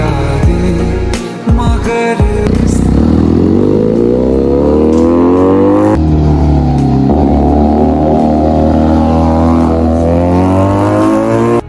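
A big, heavy motorbike revs loudly on Mall Road in Murree at night. After a few sharp blips, the engine climbs in pitch through sustained, rising revs, close and dominant throughout.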